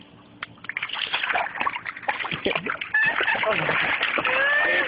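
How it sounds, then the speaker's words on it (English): Buddy the dog swims in a pool, slapping the water with steady splashes and sloshing close by, while people talk and call out over the watery noise throughout. "this is Buddy swimming in the pool"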